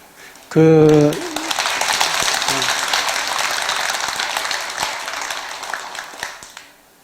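An audience at a Sunday Buddhist dharma service at a temple claps in sustained applause, a dense loud patter that follows a speaker's brief words and slowly fades out.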